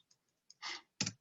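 A computer keyboard is pressed a couple of times, giving faint, close, crisp clicks in quiet, with the Enter key struck while working in Excel.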